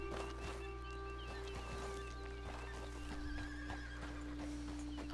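A horse in Red Dead Redemption 2 neighs and snorts over a steady electronic hum, with soft hoof clip-clops in the background; the sounds have a synthetic, game-like quality.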